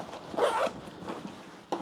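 A motorcycle backpack zipper is pulled shut in one short rasping stroke, with a smaller zip sound at the end, close and fairly quiet.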